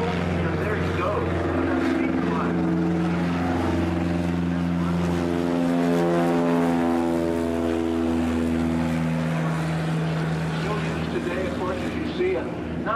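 A small bush plane takes off from gravel, its engine droning loud and close with a steadily shifting pitch as it accelerates past; a voice talks over it.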